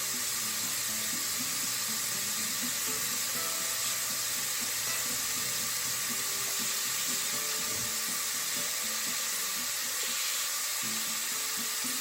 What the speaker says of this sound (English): And I will be adding some water.